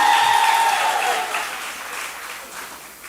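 An audience at a civil service association annual general meeting applauds, a loud burst of clapping that gradually fades over a few seconds.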